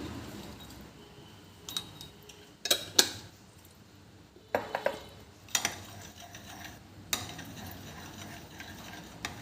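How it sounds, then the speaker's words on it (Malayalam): A spoon stirs condensed milk into a sweet bread mixture in a pan or bowl, making close, irregular clinks and scraping rattles in several short bursts with quiet gaps between. "രണ്ട് ടീസ്പൂൺ മിൽക്ക് മെയ്ഡ് ഒഴിച്ചു കേട്ടോ നല്ലപോലെ ഇളക്കണം"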